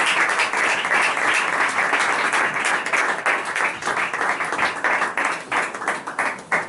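Audience applause at a singer-songwriter and poetry gathering, a sustained, crowded patter of many hands clapping, loud and continuous, thinning a little toward the end.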